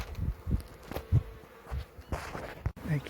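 Honey bees buzz around a beehive being relocated from a chimney, a close, uneven drone broken by soft handling bumps.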